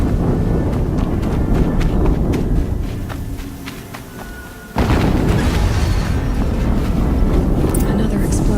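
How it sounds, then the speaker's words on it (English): Explosion in Horizon Zero Dawn on PS4: a heavy boom erupts after a quieter lull, followed by rumbling debris and continuing loud game action, with speech-like sound mixed in. "Another explosion."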